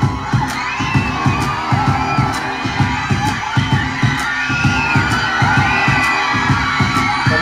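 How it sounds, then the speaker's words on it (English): A large crowd of fans screams and cheers continuously around a departing pop star, a dense, loud roar with shrill whoops rising over rhythmic thumping in the background. "A lot of people screaming."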